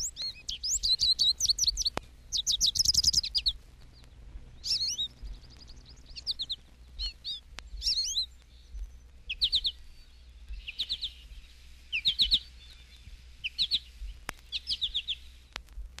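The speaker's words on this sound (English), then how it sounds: "Page 225, Common Goldfinch." A Common Goldfinch sings alone in a series of bright twittering phrases and short tweeted calls, clear and fairly close, with brief pauses between bursts.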